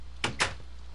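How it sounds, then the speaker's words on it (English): A wooden door in the Minecraft video game opens with two quick, close creaking clacks in rapid succession over a low steady background hum. "Did you just open the door?"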